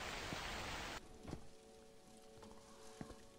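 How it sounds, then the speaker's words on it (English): Rain in a video game set at a convenience store: steady hissing downpour that drops sharply after the first second to a softer, fainter patter, with occasional small knocks. "God damn that rain."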